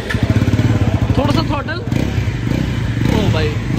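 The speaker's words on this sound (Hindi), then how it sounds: "और भाई साउंड चेक करो आप" A Bajaj Pulsar NS400Z, a 400cc motorcycle, revs up close from a rapid pulsing idle into a rising engine note, with people talking over it.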